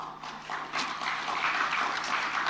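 Thin, unenthusiastic applause from an audience at a book launch, a steady diffuse patter of hands that never builds into lively clapping and runs for the whole span.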